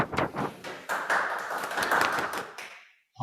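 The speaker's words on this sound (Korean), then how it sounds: "박수로 환영해 주십시오" An audience claps together for about three seconds to welcome a pediatric neurology professor before his lecture at a parent education session on infantile spasms, then the applause breaks off abruptly.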